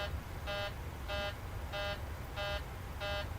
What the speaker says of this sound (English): So that alarm is going to go off for a while.